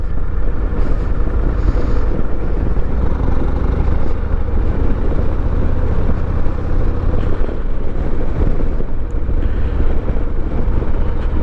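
A 2022 Harley-Davidson Street Glide ST with the 117 engine, a new motor still breaking in, loping along at low RPM while riding, a steady loud rumble heavily mixed with wind buffeting across the microphone.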